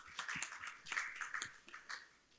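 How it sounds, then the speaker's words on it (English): Applause from a conference plenary audience, a quiet, scattered patter of clapping heard from a distance in a large hall, fading after a couple of seconds. "a round of applause for him as well"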